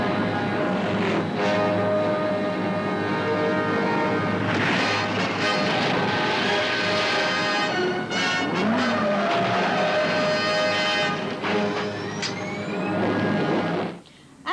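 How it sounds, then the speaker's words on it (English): The Condor car roars away in a film escape scene, a loud, sustained engine drone with shifting tones, a few sharp transients and skids, ending in an abrupt drop to near silence. "Here they're making an escape in the spectacular Condor car."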